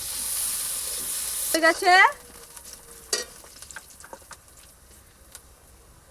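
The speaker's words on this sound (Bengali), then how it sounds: "তেলটা গরম হয়ে গেছে, এর মধ্যে পেঁয়াজ দিয়ে দেবো।" Onions hitting hot oil burst into a loud sizzle that quickly settles, followed by scattered light crackles and stirring clatter, with a brief spoken word partway through.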